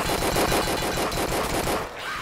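Rapid automatic fire from a melon gun in No More Room in Hell, a fast, evenly spaced burst of loud shots lasting about two seconds before cutting off abruptly.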